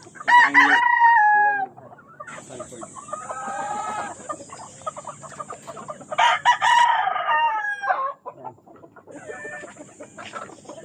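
Several gamefowl roosters, including Sanford yellow-leg hatch, crow one after another, loud and close, with hens clucking in between and a high steady whine running underneath.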